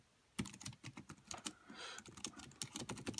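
Rapid, irregular clicking of keys on a foldable eSynic Bluetooth keyboard, close and fairly quiet, with uneven bursts of taps and brief pauses and no voices.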